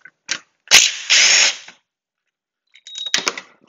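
A power tool spins off bolts holding the condenser of a 2007 Audi A4 2.0 TFSI during engine removal, in a short burst, then two longer whirring runs, then a few quick stuttering bursts after a pause.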